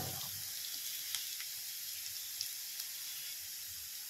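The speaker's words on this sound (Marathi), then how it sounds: "आता मी हे छान असं लालसर होईपर्यंत भाजून घेते" Onion and garlic frying in a pan, a steady soft sizzle and hiss holding faint and even for the whole few seconds, broken only by a few tiny pops.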